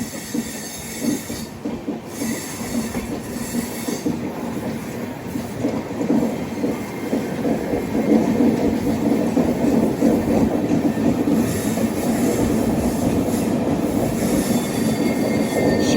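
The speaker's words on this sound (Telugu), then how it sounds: "శబరి ఎక్స్ప్రెస్." The Sabari Express, running between Thiruvananthapuram and Secunderabad, passes close by with loud continuous rumbling, rhythmic wheel clatter and squealing rails building over sixteen seconds.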